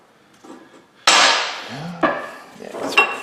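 A hammer strikes a U-joint clip during a driveshaft U-joint replacement: one sharp, loud metallic hit, then two lighter taps, close by with no talk.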